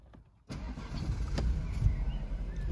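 A BMW 118i M Sport Shadow Edition with a six-speed manual gearbox starts after half a second of near silence, then its engine settles into a steady, close idle rumble with no talk.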